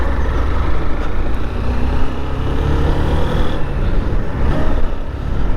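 A 2025 Honda SP 160 motorcycle riding and shifting through its five gears, a loud, steady engine rumble mixed with rushing wind noise, close and continuous with no talking.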